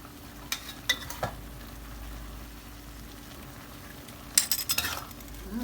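Stink beans and fresh shrimp stir-fry with shrimp paste in a pan under a quiet, low sizzle, broken by two short bursts of spatula scraping and clattering against the pan.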